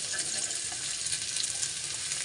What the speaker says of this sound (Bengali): রসুন কুচি দিয়ে দেব তারপরে পেঁয়াজ কুচিটা দিয়ে দেবো